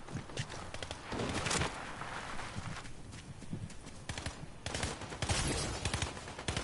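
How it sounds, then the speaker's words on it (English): Gunfire in the Fortnite video game: a dense, continuous clatter of overlapping shots, apparently from several directions at middle distance, forming a steady busy wash with no clear single shots standing out. "I can hear a lot of shooting, can't tell where it is."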